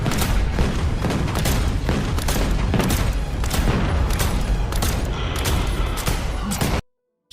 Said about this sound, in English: Fire on it! Do some damage! Shoot it!